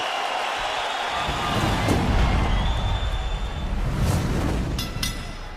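A raucous hometown crowd cheers and roars steadily after an MMA fight stoppage, loud and sustained throughout, swelling slightly midway with occasional sharper shouts rising above the din.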